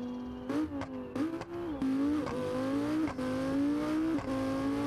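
A Lamborghini Gallardo engine in BeamNG howls and revs in a string of rising blips, then holds a steady high drone with small pitch dips. It sounds close and loud.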